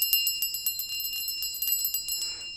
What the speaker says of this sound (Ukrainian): Дзвони є такі, є дзвони більш потужні